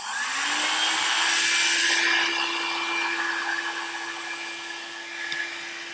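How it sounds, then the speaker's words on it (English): A handheld blow dryer dries a freshly wiped table surface, producing a loud, close, steady whirring roar that spins up at the start and runs continuously with no talking. "And then we'll just get my blow dryer."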